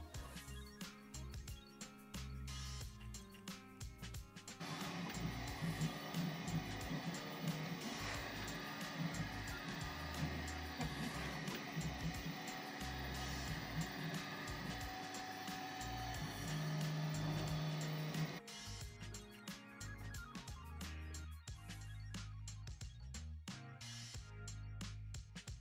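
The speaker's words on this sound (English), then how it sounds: "I'm going to be printing all my parts on the Bamboo P1S" A Bambu Lab P1S 3D printer prints plastic parts, its motors whirring and buzzing continuously with stepper tones and a denser, louder stretch in the middle, heard alone and up close.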